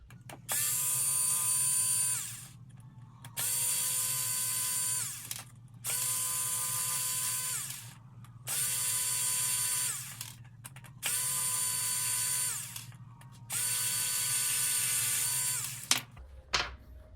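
A power drill backs out six screws from RC beadlock wheels, whirring in six even bursts of about two seconds each with short gaps between, close and loud, followed by a few light clicks.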